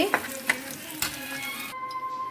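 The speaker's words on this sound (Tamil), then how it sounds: "வெங்காயமும் பூண்டும் வதங்கிடுச்சு" Onion and garlic sauté in hot oil with a crackling sizzle and a few sharp spoon-stirring knocks against the pan, near and loud, fading out toward the end.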